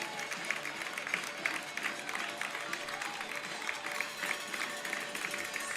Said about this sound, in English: Always a good round of applause for the kids whenever they come out